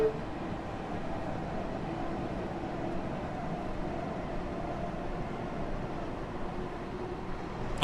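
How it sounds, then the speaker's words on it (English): An M9 commuter train passes in a Long Island Rail Road simulation on the Hempstead to Penn Station run, a steady low rumble and rolling hiss that holds for several seconds at moderate distance. "First train coming towards us. We got an M9."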